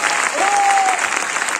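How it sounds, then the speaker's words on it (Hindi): Loud audience applause fills a hall at an Indian direct selling industry event, dense and sustained, with a brief voice tone rising over the clapping. "जोरदार और धमाकेदार तालियां हैं।"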